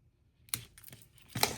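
Scissors snip around cardstock in a few sharp, crisp cuts close by, with short pauses between them and a louder burst of snipping at the end.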